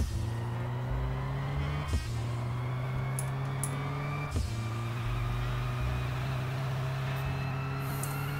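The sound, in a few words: truck engine in video game Airport Service Simulator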